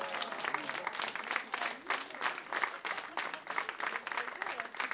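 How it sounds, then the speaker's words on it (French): An audience at a Christmas stage show applauds steadily, dense clapping from many hands filling the room at a fairly even level throughout. "Vous pouvez les applaudir."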